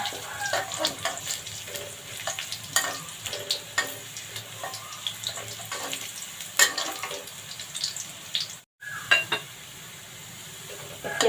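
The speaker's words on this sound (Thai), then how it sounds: "ผัดกระเทียมให้หอมนะคะ" Garlic stir-frying in a pan for chai poh with egg, a soft continuous sizzle broken by irregular spatula scrapes and light clinks, briefly cut silent near the end.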